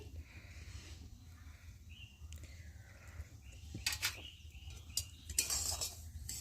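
A spoon stirring salted semolina in a pan, heard as soft scraping and a few sharp metallic clinks near the end, fairly quiet and close.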